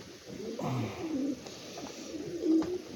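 Birds coo softly and repeatedly, dove-like calls overlapping in a quiet enclosure, with no talking.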